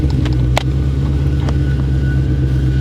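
A 2019 Shelby GT350 800R with a twin-turbo engine running warm with the exhaust closed: a steady, deep, muffled drone from inside the car, with a couple of faint clicks over the top.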